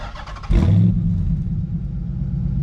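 Chrysler 300 SRT8 exhaust, heard close up, snaps into one sharp rev and then settles into a deep, steady rumble.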